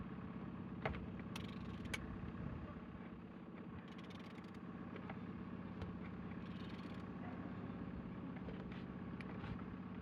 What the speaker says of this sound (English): Engine is turning good.